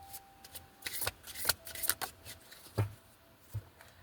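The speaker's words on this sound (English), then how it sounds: "So let's shuffle." Soft, close card shuffling in scattered snaps and riffles, irregular bursts spread across several seconds with quiet gaps between.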